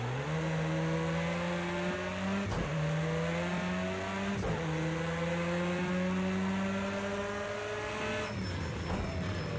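Audi S1 EKS RX rallycross car racing at Bathurst in Project CARS 2, a loud, strained engine note holding high revs, dipping sharply at each gear change, then easing off near the end.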